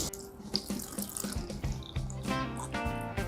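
Coke is poured into a drink, giving a close, steady liquid stream with gurgling and fizzing that runs for a few seconds at moderate level with no talk.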